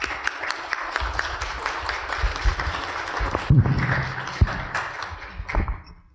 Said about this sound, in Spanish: Con ustedes, arquitecto Honorato Carrasco Mar, para quien pido un aplauso